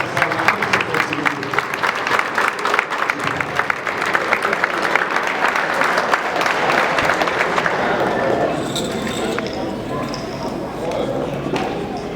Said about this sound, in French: je vous demande que tout le monde applaudisse.